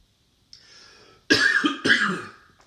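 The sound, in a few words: cough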